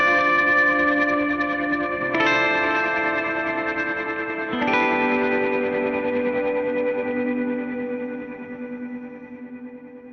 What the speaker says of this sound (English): Little delay, little reverb.